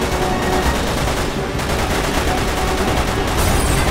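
Dense, continuous gunfire rattles in the video game Resident Evil 6, rapid automatic bursts filling the whole stretch loudly and up close with no pauses.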